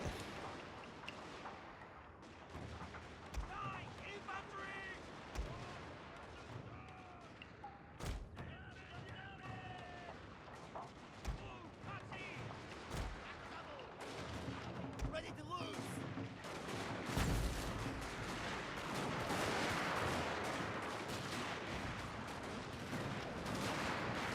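Mortar and rifle fire in a Total War Shogun 2: Fall of the Samurai battle, with repeated booms and rapid crackling volleys layered over a continuous dense battlefield din, growing heavier and more sustained toward the end; a voice talks throughout.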